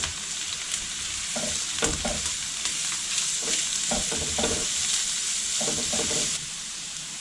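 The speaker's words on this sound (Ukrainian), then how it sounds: "Обсмажую злегка." Onion and grated carrot fry lightly in a pan for a pea and pumpkin cream soup, with a continuous sizzle and repeated scraping stirs up close, and the hiss easing near the end.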